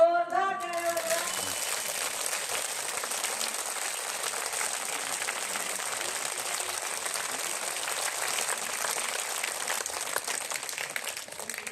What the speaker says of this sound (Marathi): वर करून जोरदार टाळ्या वाजवा.